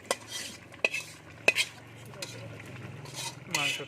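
Chicken is mixed into half-cooked rice in a pot for chicken biryani, with a soft continuous stir broken by a few sharp spoon clinks against the metal, close and fairly quiet.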